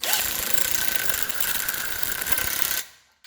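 A small impact gun runs a lock nut onto a lower ball joint on a 2014 Kia Rondo, giving a loud, steady close-up rattling whir for nearly three seconds before it cuts off abruptly, with no talking.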